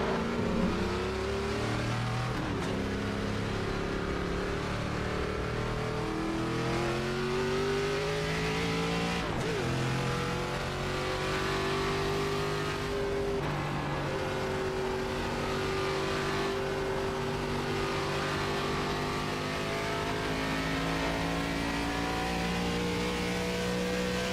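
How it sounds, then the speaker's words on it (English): Race car engines roaring on the oval at Iowa Speedway in iRacing, a loud sustained high-revving drone with pitch rising and falling as cars close in and pass, continuous and without talk. "There's a car approaching."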